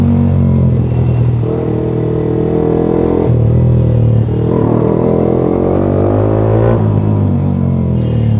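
A Yamaha R15 V3 motorcycle with a loud SC Project exhaust, its engine droning and rising in revs in several surges, with brief drops between pulls, close and loud throughout.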